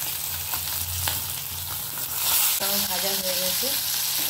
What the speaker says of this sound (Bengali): মাছ কটা আমার ভাজা হয়ে গেছে